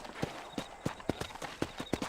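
Horse hooves clip-clop steadily at a trot in the Red Dead Redemption video game, with evenly spaced sharp thuds repeating about every third of a second, close and clear with no talking.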